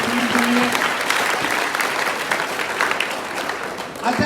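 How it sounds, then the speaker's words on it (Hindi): Children clap loudly in a burst of applause at a roadside safety quiz, a dense steady patter that fades slightly near the end, with some voices mixed in. "जोरदार तालियां"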